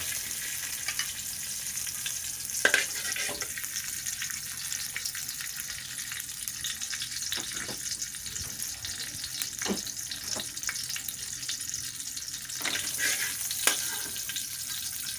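Chopped garlic sizzles steadily in hot oil in a wok for stir-fried Chinese kale, a continuous close hiss broken by a few sharp clinks of a utensil against the pan.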